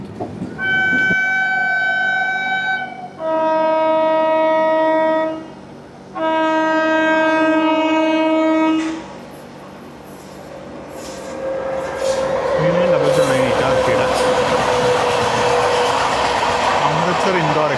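The Amritsar Indore Express sounds three long, loud blasts of its horn, then rumbles past nearby with a rising roar of wheels and carriages that builds and stays loud to the end.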